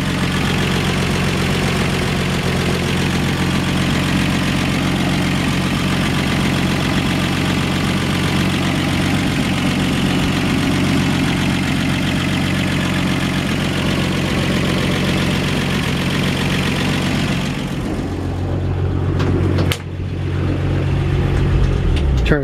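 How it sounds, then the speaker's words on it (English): A 1948 Ford F1 truck engine idles steadily and loudly close by, a constant low rumble that continues for most of the clip before it briefly dips and wavers near the end. "Nice sound running engine."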